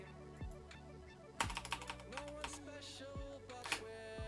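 Rapid keystrokes on a computer keyboard with one dead M key, clattering in irregular bursts under a bed of music, a few louder key hits standing out.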